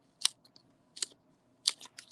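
Scissors snip through paper flower pieces three times in a row, each a short crisp cut with brief pauses between, close and clear in a quiet room.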